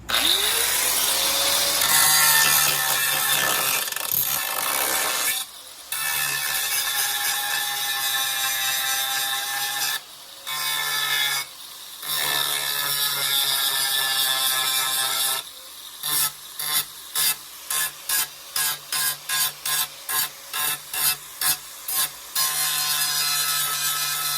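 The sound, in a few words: cutting off a used part before grinding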